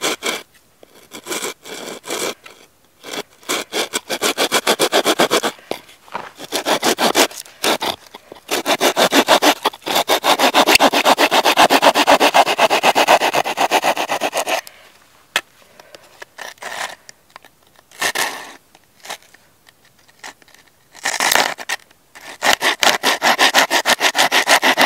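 A knife scrapes and carves a notch into a piece of wood for fire making, with repeated rasping strokes in short bursts separated by quiet pauses, close up.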